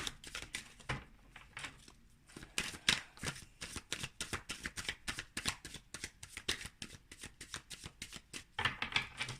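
Tarot cards shuffled by hand at close range, a rapid, continuous run of crisp riffling and slapping flicks with brief pauses, heard alone without any voices.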